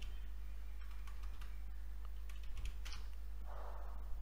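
Light keystrokes on a computer keyboard, faint scattered clicks over a steady low hum, with no voices.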